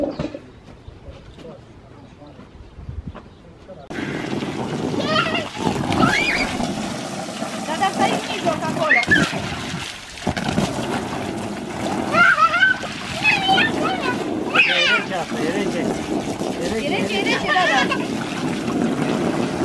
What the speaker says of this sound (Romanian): uite că vine acum Bica cu găleata